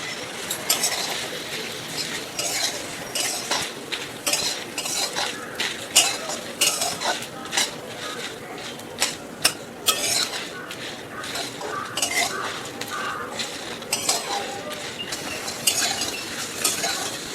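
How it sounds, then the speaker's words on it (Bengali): Whole spices being fried and stirred together in a hot wok for a home-style Bengali chicken biryani, with steady scraping and clinking of a spatula against the metal over a soft sizzle. "আমি এই গোটা মশলাগুলোকে সবগুলো একসাথে ভেজে নেব এখন"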